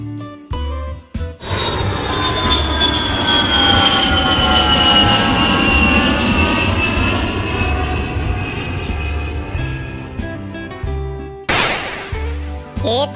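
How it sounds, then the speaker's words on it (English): A loud, drawn-out airplane engine roar with a high whine sweeping downward, rising then fading after about ten seconds, bracketed by short music-like sounds. "It's an airplane."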